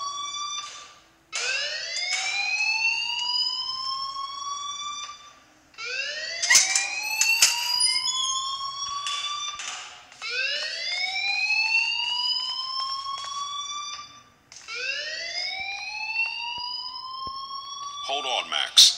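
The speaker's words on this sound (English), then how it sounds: "please turn off that alarm" A school fire alarm in Life is Strange sounds a repeating rising electronic whoop, four loud sweeps climbing in pitch with short gaps between them.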